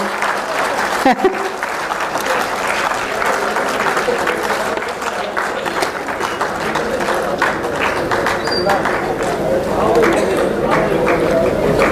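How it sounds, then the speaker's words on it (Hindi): An audience applauds at a Hindi public event, a dense wash of clapping that runs throughout. Voices and crowd noise mix in with it. "आपकी तालियां, आप भूल जाते हैं बीच बीच में तालियां बजाना भाई।"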